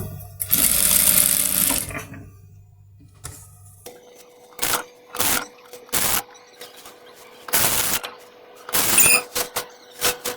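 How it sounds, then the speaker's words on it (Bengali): Sewing machine stitching salwar fabric, a sustained whirring run at first, then several short loud bursts of stitching separated by quiet gaps. "এ পর্যায়ে উল্টিয়ে নিলে এবার আমরা এভাবে চাপ সেলাই দিয়ে দিব"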